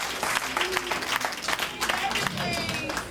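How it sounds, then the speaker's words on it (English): A seated audience at a tribute evening for Hat Lady Mary bursts into dense, sustained clapping that fills the room nearby, with a voice speaking over the applause. "Give yourselves a nice round of applause because you're a beautiful audience here tonight."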